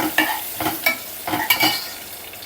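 A spoon scrapes and stirs fenugreek powder and spices in a pan for drumstick curry in quick strokes, with a soft sizzle of frying between the strokes. There is no talking.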